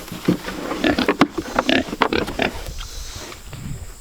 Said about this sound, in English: Pigs are ready to eat this morning.